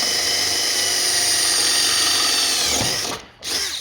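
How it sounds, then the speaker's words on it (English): A power drill whines loudly and continuously while drilling out a hole near powder coat to install CavFab Vengeance Series sliders, then winds down, cuts off briefly and spins up again near the end. "We took a drill bit, yeah, that's it."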